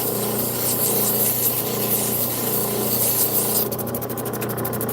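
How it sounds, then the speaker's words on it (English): Dremel rotary tool polishing the edges of a turquoise stone, a steady close rubbing whine that runs continuously, turning into a quicker pulsing grind near the end. "Just to polish the turquoise edges."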